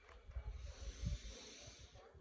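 Someone breathes out slowly through the mouth in a thin stream during a breathing exercise: a faint, close, airy hiss in soft repeated pulses, with no talking.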